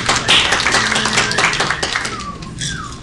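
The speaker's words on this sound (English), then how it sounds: "Everybody clap." An audience applauds at an Arizona Breakfast Club gathering: dense, loud, continuous clapping that eases off slightly toward the end.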